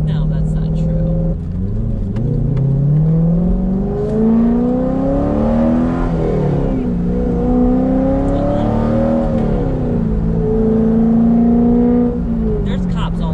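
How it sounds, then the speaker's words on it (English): Chevrolet Corvette Z06 engine revs and accelerates loudly from inside the car, pitch climbing and falling through several gear changes while a person talks over it. "Car got a little loud, now you're nervous."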